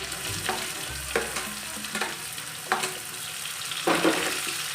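Onion dropped into garlic already browning in hot oil in a pan sets off a continuous sizzle, punctuated by several sharp crackling spatters at irregular intervals.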